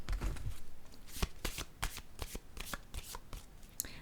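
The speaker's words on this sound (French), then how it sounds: "je vais piger une autre carte" Oracle cards being shuffled and drawn by hand: a rapid run of crisp riffling flutters and soft slaps, close and continuous for several seconds.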